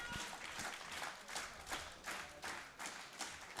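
A crowd at a women's 76 kg world classic powerlifting championship claps in rhythmic unison during a deadlift attempt, a steady, fairly faint beat of about two claps per second heard from a distance.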